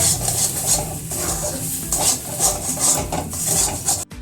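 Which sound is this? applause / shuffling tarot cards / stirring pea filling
stirring pea filling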